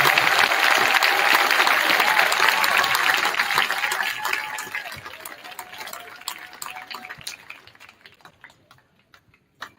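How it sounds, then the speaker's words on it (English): Applause from a school concert audience for a middle school 7th grade band at a winter concert, with a loud, full burst of clapping that gradually thins into sparse individual claps and dies out. "can we give another round of applause for the amazing 7th grade band over here?"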